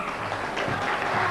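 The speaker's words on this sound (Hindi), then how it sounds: "दोस्तों जोरदार तालियां प्लीज।" A brief burst of dense audience applause at a film stars night event, steady clapping from a crowd.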